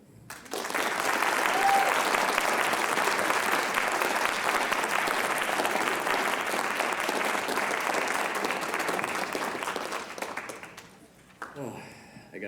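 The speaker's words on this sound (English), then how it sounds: "Can we give her another round of applause?" An audience breaks into sustained applause after a student reading at a school writers expo, a dense, steady wash of clapping lasting about ten seconds before fading, followed by a brief voice.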